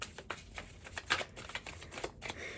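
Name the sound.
shuffling and pulling tarot cards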